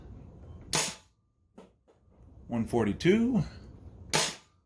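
A double Caliburn foam dart blaster, loaded with 26 darts, fires two sharp, loud shots several seconds apart, with someone speaking briefly between them.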